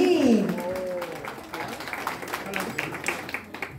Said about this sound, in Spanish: Fuertes de aplauso para ellos dos, que se escuchen bien fuerte